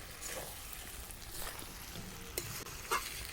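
Mutton with fried potatoes being stirred in a pan while frying for Bengali mutton kosha, a faint steady sizzle under soft scraping and a couple of light utensil knocks, close and quiet.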